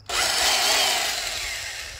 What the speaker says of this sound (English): 3/8 variable speed reversing drill. That's a VSR, variable speed reversing.